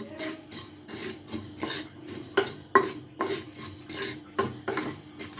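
Black cumin seeds being stirred while dry-frying in a pan, giving a steady scraping, rasping rhythm of about two strokes per second with light metallic clinks, close and alone.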